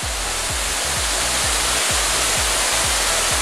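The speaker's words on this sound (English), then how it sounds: "There's the waterfall." Huge waterfall at Plitvice park roaring as a steady, loud broadband rush, with a faint low rhythmic thumping underneath and no talk.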